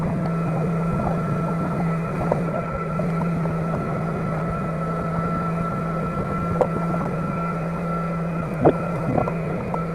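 A pump draining an electric water heater hums steadily and continuously at close range, with a few faint knocks over the drone.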